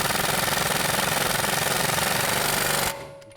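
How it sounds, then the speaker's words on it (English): An impact gun rattles in a fast, loud, steady hammering burst as it drives an 18mm socket onto a sway bar link nut on a 2008-2017 Buick Enclave, then stops abruptly and leaves a faint hum. "Take an 18mm wrench on the inside, 18mm socket. Tighten this up."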